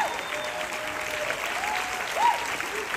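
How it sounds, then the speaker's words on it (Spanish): Theatre audience applauding the cast after a live-sung performance of "El mago", a brief steady wash of clapping with faint voices mixed in. "Un aplauso para todos ellos"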